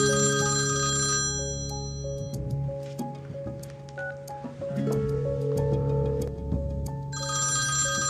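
A telephone ringtone plays loud and alone, a bright, repeating electronic melody with a brief softer break in the middle before the tones return.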